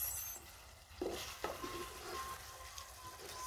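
Liver cooking in a pan with a little water, a faint bubbling sizzle broken by a couple of brief stirring scrapes, quiet and close with no one speaking.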